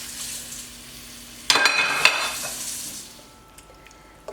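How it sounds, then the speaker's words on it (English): Coconut milk and lemongrass hit a hot pan for lemongrass chicken, a sudden loud sizzling splash that fades over a few seconds, with a clink of a utensil and some stirring nearby. "Let it sizzle for approximately 20 minutes."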